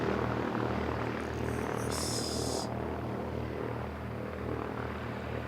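An ATR commercial turboprop airliner flies near an aero club, a steady droning engine hum with a low throbbing propeller tone that stays fairly loud and even throughout, with no talk.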